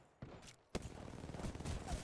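Rapid bursts of gunfire in the Apex Legends video game, starting with a short volley and then a dense, continuous stretch of overlapping shots, fairly quiet overall.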